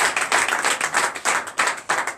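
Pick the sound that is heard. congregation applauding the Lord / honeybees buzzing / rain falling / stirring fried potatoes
congregation applauding the Lord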